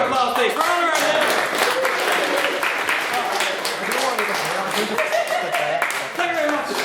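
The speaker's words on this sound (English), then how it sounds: "I'll take another round of applause, please." A debate audience applauds continuously with dense, rapid clapping throughout, while a voice talks over it.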